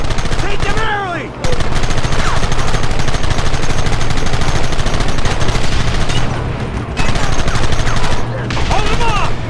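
Rapid automatic gunfire from a Red Dead Redemption shootout, loud sustained bursts with brief pauses, dense and close, with shouted voices breaking in between volleys.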